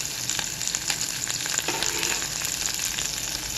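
Chopped onions sizzle and crackle steadily in hot oil with green chilies and curry leaves for a masala puri curry, a close, continuous frying hiss with small pops and no talking.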